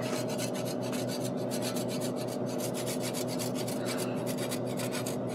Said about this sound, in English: We're going to grate a little bit of Parmesan cheese on top.